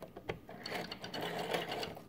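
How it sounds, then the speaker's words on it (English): A sewing machine stitches in short, rapid mechanical bursts that rattle on and off for about two seconds, close up with no speech. "This is the first day of me ever using a sewing machine."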